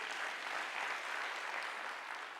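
An audience at a leadership lecture session claps in a soft, even, continuous spread of applause that sounds fairly distant and faint, with no talking over it.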